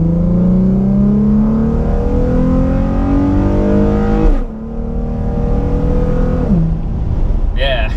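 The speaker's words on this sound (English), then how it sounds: "my exhaust setup right now is Motordyne R pipes, Motordyne XYZ pipe with resonator, and the Nismo knockoff exhaust" A G35 coupe fitted with Motordyne R pipes, a Motordyne XYZ pipe with resonator and a replica Nismo exhaust drones loudly and steadily up close, revving and climbing in pitch, then briefly dropping off before picking back up.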